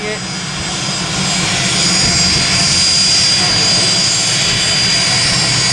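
A WW2 P-40 warplane's engine roars during takeoff at Palomar Airport, a loud, steady, broadband drone that swells slightly and holds near the listener.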